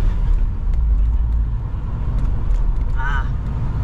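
A BMW E46 accelerating in first gear, heard as a steady, loud low engine rumble from inside the car with a brief whine near the end, as someone talks over it.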